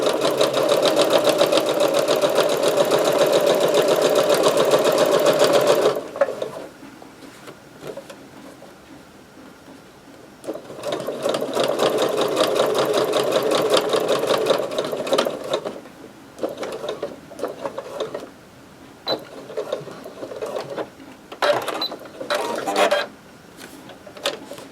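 A sewing machine stitches a seam through a fabric Bible cover padded with batting, running steadily and loudly, then going quiet, then starting again in a long run that breaks into shorter stop-start bursts.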